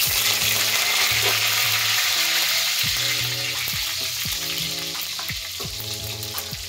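Mustard seeds, cumin and curry leaves sizzle and crackle in hot oil as a misal tempering. The frying hiss is loud, steady and close, with a soft melodic backing underneath.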